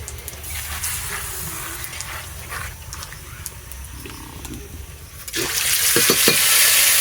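Spice paste goes into hot oil tempered with fresh bay leaves, dried red chilies and cinnamon, first a soft stirring crackle, then a sudden loud, sharp sizzle surging up near the end.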